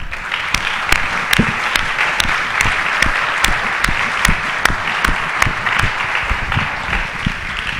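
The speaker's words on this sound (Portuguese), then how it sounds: "E eu quero que todos nós jovens dão um aplauso para você." Young people in a church gathering applaud elders in the faith, with close, crisp individual claps standing out against a broader background of audience clapping at a steady pace.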